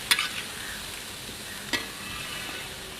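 Spinach being stirred in a small uruli pan: a few soft scrapes and clinks over a faint, quiet sizzle, with the loudest scrape near the start and another just before the midpoint.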